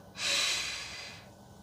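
A single deep, breathy inhale through the nose during a meditation breathing exercise, close and steady, swelling quickly and then tapering off over about a second.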